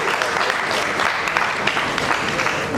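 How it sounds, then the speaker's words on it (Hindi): Steady, dense applause from an award ceremony audience, a sustained wash of many clapping hands at close range with no break through the whole stretch. "जोरदार तालियां हो जाए please"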